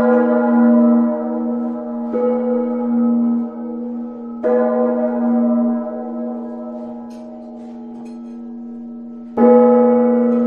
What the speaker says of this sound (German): Das hier ist ein Gong meines Großvaters